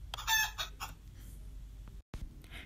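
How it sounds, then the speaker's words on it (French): A rooster crows in a French animated film, a loud, close cock-a-doodle-doo in several bright bursts followed by softer clucking and a brief cutoff, with no talking. "le coq chante très fort. Cocorico !"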